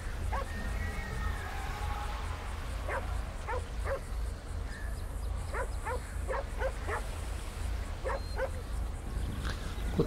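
A dog in the GTA 5 video game barks repeatedly in short, sharp bursts, some clustered in quick pairs and triples, over a steady low background hum.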